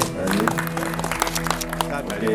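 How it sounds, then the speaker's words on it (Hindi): Applause from an audience at an Arya Samaj ceremony, a steady patter of many hands under music and voices. "सब लोग ताली बजा दीजिए।"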